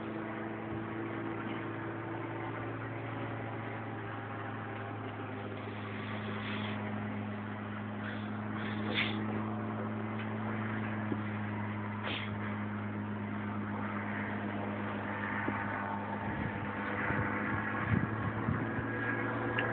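The engine of a Pegas light aircraft runs in flight, giving a steady, continuous droning hum with a constant pitch, heard from inside the cabin throughout.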